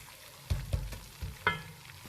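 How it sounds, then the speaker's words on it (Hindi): Gram flour (besan) roasting in a pan for suji besan halwa, with a soft continuous sizzle under several distinct scraping knocks of the stirring spoon, close by, and no talking. "बेसन की बुनाई हो रही है"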